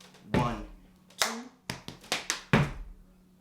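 A dance routine of sharp foot stomps and hand claps, each a crisp, separate impact in an uneven rhythm, about six hits in all, close by in a quiet room.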